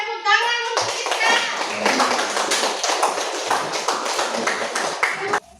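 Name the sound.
classroom applause, clapping hands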